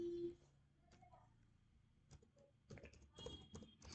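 Quick clicks of computer keyboard keys come in short bursts, spread through the clip, with some gaps between them and a faint background hum.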